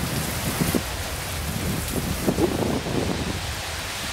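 A thunderstorm with rain falls continuously, a broad steady hiss of rain with low rumbles of thunder rolling through, unbroken and fairly loud throughout, with no talking.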